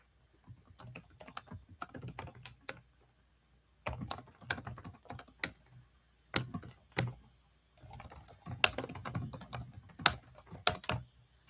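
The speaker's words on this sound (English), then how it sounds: "I'm going to type that in the chat." Bursts of rapid, crisp keystrokes on a computer keyboard, up close, coming in several separate runs broken by short pauses.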